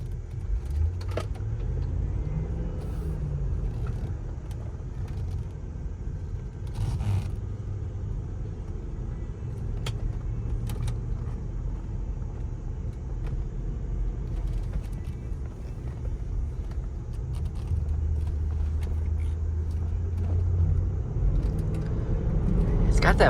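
Inside a 2010 Land Rover LR4 with a 5.0 V8, a low steady road and engine rumble drones while driving, building slightly louder near the end, with a person talking over it.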